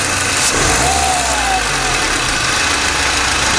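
A car engine idles close by and swells in a brief rev as the throttle is blipped, settling back into a steady rumbling idle.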